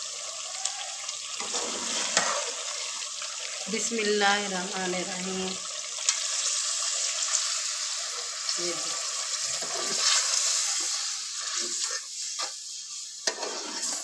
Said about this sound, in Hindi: अब मैं इसके अंदर 6 गिलास पानी के डालूंगी।